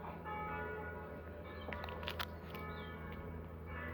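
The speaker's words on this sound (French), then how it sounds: "Ouais, c'est les cloches." Church bells ring faintly in the distance over a steady low hum, their tones drifting in and out.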